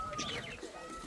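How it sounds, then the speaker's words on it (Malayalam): Pigeons give a brief, close coo, a soft low call lasting about a second over faint background bird chatter. "പ്രാവുകൾ."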